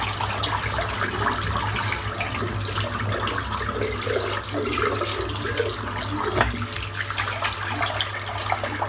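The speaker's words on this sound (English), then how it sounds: "Just going to empty the sink out, refill it, and go from there." A bathroom sink drains and then refills from the tap, a steady close rush of running water with gurgles and splashes throughout, plus a low hum underneath.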